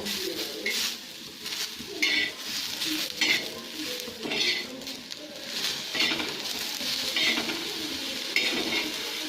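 Masala for spicy Khandeshi dhaba-style sev bhaji roasting in a pan, with a steady sizzle and repeated close scraping strokes as it is stirred.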